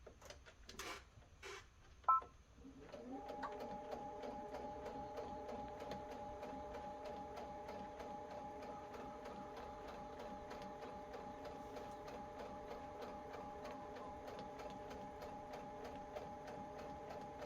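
Electric sewing machine stitching fabric for a teddy bear, starting after a few clicks and then whirring steadily and evenly close by, with no talk over it.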